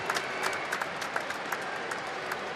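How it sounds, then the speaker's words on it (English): A stadium crowd at Cardiff City Stadium applauds steadily during a Wales v Slovenia women's World Cup qualifier, a continuous even clatter of many hands heard from a distance. "the Cardiff City crowd stands to applaud Anne Harrod-James"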